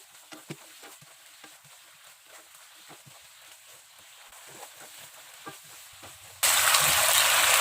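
Tofu and chicken feet being stirred in a frying pan, with scattered scraping clicks and a soft sizzle underneath, ending in a sudden loud burst of hissing sizzle.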